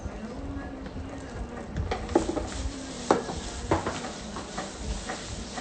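Blended ingredients for nasi kerabu are mixed by gloved hand in a pot, giving soft, wet stirring and scraping with several sharper clinks against the vessel, close and moderately quiet, with a voice faintly present.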